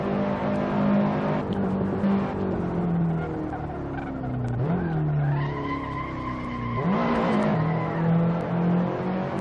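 A race car laps the Magione circuit in the racing game Assetto Corsa, its engine droning loud and close, the pitch dipping and climbing through gear changes and corners, with tire squeal and skidding throughout.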